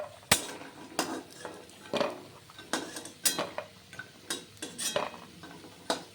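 A metal spoon clinks and scrapes against a pan as fried lentil dumplings (bori) are lifted out of hot oil, with sharp knocks roughly once a second and a faint sizzle underneath.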